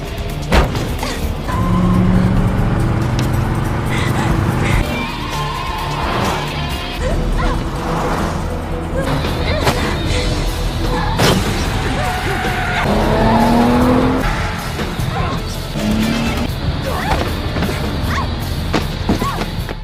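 Loud car engines roar with screeching tires, skids and a few heavy thuds and crashes, a chaotic high-speed chase scene.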